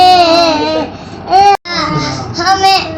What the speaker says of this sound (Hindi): तभी दोनों बच्चों की रोने की आवाज सुनकर दादाजी उनके कमरे में आए।